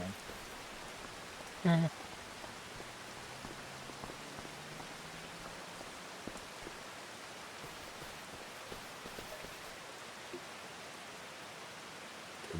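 Steady, soft rain falls in the video game Farming Simulator 25, a faint, even wash of noise throughout, with a brief murmur from a person near the start.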